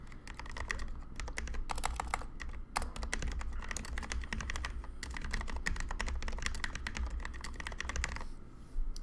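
Steady, close typing on a computer keyboard, with fast clustered keystrokes continuing for several seconds, one brief pause partway through, then stopping near the end.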